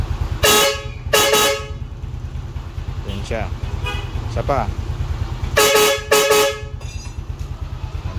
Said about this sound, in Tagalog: Circuit air horn sa Yamaha NMAX.